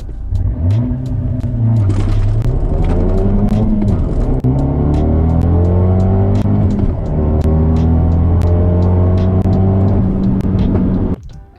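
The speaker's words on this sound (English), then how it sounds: "I spin all through second gear to above 20 miles an hour." A tuned Fiat 124 Spider engine roars close by during a launch-control start, wheels spinning through second gear, revving hard through rising pitch sweeps as it accelerates, sustained and loud before cutting off abruptly at the end.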